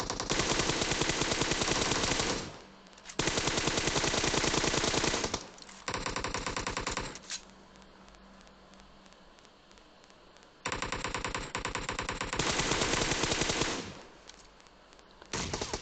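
Rapid automatic gunfire bursts from a PUBG Mobile match, loud and dense, coming in long sustained volleys separated by brief quieter gaps.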